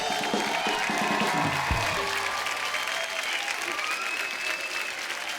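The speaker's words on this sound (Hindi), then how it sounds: "सनी के लिए जोरदार तालियां हो जाए।" A studio audience on a Hindi comedy talk show applauds steadily, a full crowd clapping with some cheering mixed in, while music plays underneath in the first seconds.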